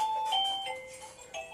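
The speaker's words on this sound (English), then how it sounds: "let's say I want to set my doorbell to this. Skype alert." A Roybens musical doorbell chime plays a short Skype alert tone, a quick series of clear electronic beeps at close range with no voices.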